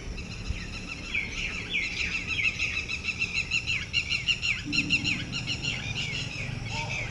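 Several birds chirp and call in quick, repeated high notes over a soft outdoor background, fairly distant and moderately quiet.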